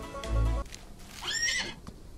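A tamed horse in the Western video game Outlaws of the Old West lets out a shrill whinny after a dull thump, the call rising and falling over about a second with faint background game sounds.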